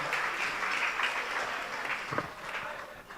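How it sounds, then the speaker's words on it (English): An audience at a regional sports awards night applauds the nominees, a steady, full wash of clapping from a large crowd that carries evenly from start to finish. "Yeah, a big round of applause."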